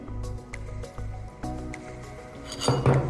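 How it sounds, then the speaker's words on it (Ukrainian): A spoon mixes cheese doughnut batter with sugar, vanilla sugar, sunflower oil and sour cream in a bowl, with wet squishing strokes and light clinks against the bowl, close up. "І знову ж гарненько перемішуємо."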